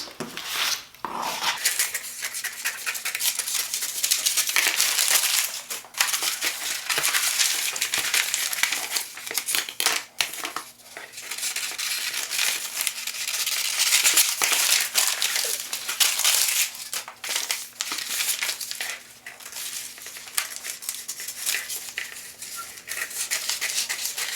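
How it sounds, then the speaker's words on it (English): A roll of paper for a dress sewing pattern crinkles and crackles as it is handled, unrolled and re-rolled, the rustling loud and close, continuing almost without pause with a few brief lulls. "Paper's rolling too much. I'm going to roll it on the other side so I can work with it."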